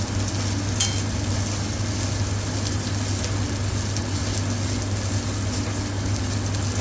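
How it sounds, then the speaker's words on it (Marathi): Onion sautéing in a pan on a medium gas flame for roasted baigan masala, giving a steady, even sizzle and crackle that runs unbroken throughout with no talking. "फ्लेम मध्यम आचेवर कांदा व्यवस्थित परतायचा."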